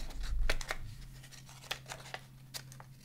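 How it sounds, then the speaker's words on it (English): Scissors fussy cutting a small paper Santa image for a vintage Christmas card, a series of close, crisp snips at an irregular pace over a low background hum. "There he is, our little Santa, all fussy cut it out"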